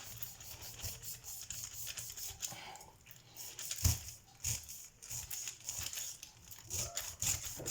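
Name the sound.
knife cutting a pineapple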